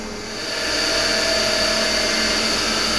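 A power tool grinding a small bevel onto a screw for a 1966 Ford Galaxie 500 convertible, spinning up quickly into a loud, steady high whine that holds to the end.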